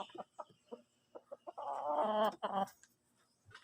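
Chickens cluck in short, separate bursts, then one bird lets out a longer, louder stretched call before the clucking trails off, close by with no talking.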